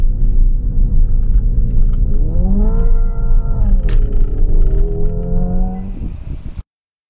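Hyundai Ioniq 5 N electric car piping a synthetic combustion-engine note through a bend, a loud rising and falling revving drone with gear-shift-like steps, then an abrupt cutoff.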